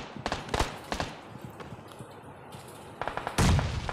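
A grenade blast in the BGMI battle royale shooter, a deep boom near the end following scattered sharp gunfire cracks and thuds, all fairly quiet within the game's ambient noise.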